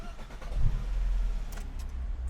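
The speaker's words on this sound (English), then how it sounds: "Switch it on and listen." A hot hatch car with a special sport exhaust starts up, a brief crank followed by a deep, steady idle rumble close by, with a few light clicks over the top.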